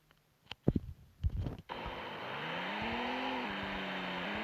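A BMW i8 engine drifting in the mobile game Car Parking Multiplayer: a few sharp clicks and thumps give way to a steady, loud engine drone whose pitch climbs and shifts as the car slides.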